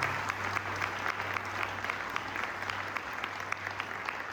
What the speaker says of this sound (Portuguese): diga amém e aplauda Ele